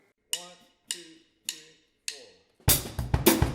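A drum kit plays a Ska Du groove: four separate struck hits spaced about evenly, then a dense, loud burst of drumming with cymbal wash near the end, close and alone.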